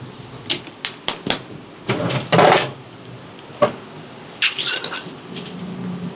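Vegan hearts of palm ceviche tossed in a bowl: irregular close clinks, scrapes and wet stirring bursts of varying loudness, with no talking.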